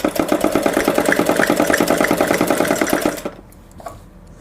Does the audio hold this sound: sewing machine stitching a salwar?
yes